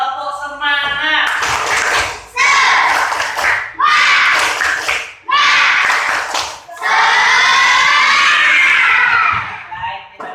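A class of children bursts into a loud, rhythmic tepuk semangat clapping chant in a classroom, with sharp bursts of clapping and shouting repeated in several quick phrases before one long cheering shout.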